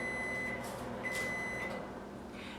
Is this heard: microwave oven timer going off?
yes